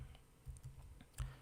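Light, quiet taps on a computer keyboard come in a few irregular clicks, soft and close, with no voices.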